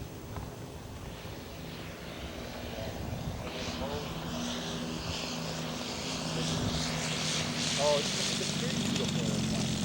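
Radio-controlled scale model airplane coming in to land during an obstacle course race at a scale aircraft show, its propeller engine droning at a distance and slowly growing louder, with a commentator talking over it.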